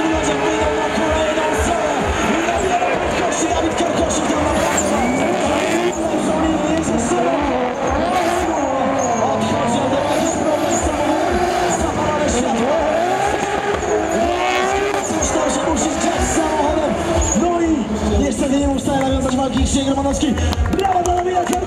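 Drift cars at a 2016 Nadarzyn drifting event roar off together on the track, engines revving hard with tire squeal and crowd noise under a commentator's steady talk for the whole stretch.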